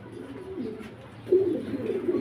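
Low, throaty pigeon coos roll out in soft repeated phrases, close by at a pigeon farm, with a louder burst of cooing midway.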